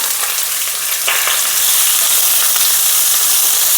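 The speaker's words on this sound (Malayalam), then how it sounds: "കറിവേപ്പില മൂത്ത് കഴിയുമ്പോൾ നമുക്ക് പയറിട്ട് കൊടുക്കാം." Cowpeas hiss loudly as they land in hot oil with mustard seeds and curry leaves in a pan, with a brief clatter near the start, then a steady close sizzle with no talking.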